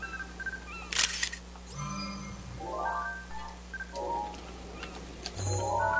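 In Zelda: Breath of the Wild, a sharp in-game camera shutter click snaps while seagulls are photographed by the sea, set among soft game ambience and bird-like chirps, with a second shutter-like burst near the end.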